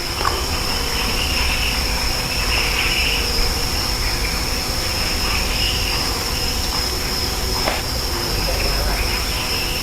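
Dense, steady chorus of crickets and frogs near the old Sumur Songo well in Cepogo, Boyolali, a rural village at night, a continuous high shrill trilling with a few faint clicks, no voices.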